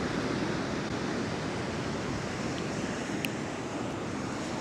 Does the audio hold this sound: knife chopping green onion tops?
no